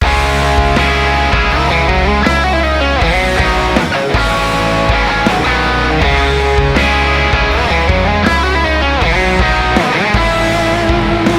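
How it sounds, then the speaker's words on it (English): Dense, loud full-band music plays continuously, with bright Telecaster electric guitar lines over drums and bass throughout. "if you're looking for a Telecaster and ideally you want it to sound something like this"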